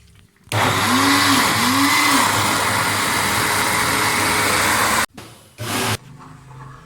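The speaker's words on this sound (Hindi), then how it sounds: "ये दाल ग्राइंड हो गई है" An electric grinder runs steadily, grinding chana dal with a loud, continuous whir, then stops abruptly and gives a couple of short bursts before going quiet.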